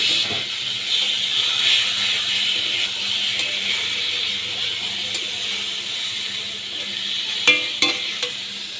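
Green chilli dropped into a sizzling pan of potato and paneer, a steady bright frying hiss close up with faint scraping and a couple of sharp utensil clinks toward the end.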